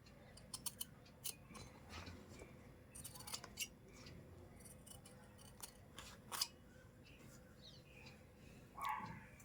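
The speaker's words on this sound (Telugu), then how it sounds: "ఇలా మార్క్ చేసుకొని ఇలా కటింగ్ అయితే చేసేసుకోండి." Scissors cut fabric for a puff sleeve in a series of quiet, irregular snips. The crisp cuts come close together, then spread out, against a faint room background.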